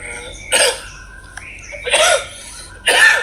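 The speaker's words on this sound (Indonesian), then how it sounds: "baru diomongin kamu udah batuk" Three sharp coughs spaced about a second apart, close and fairly loud, with quiet pauses between them.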